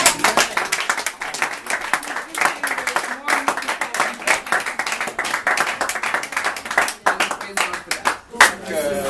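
A church congregation claps and applauds at a thanksgiving service welcoming newcomers, a dense, steady patter of many hands with brief swells and dips, close and loud, with voices mixed in.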